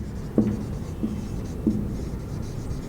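Chalk or marker strokes on a board during an engineering lecture, three short separate taps and scrapes spaced under a second apart, fairly close against a quiet room hum.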